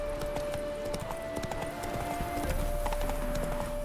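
Horse hooves galloping in The Witcher 3 video game, a steady rapid clip-clop running throughout under a constant tonal game soundtrack, with no talking.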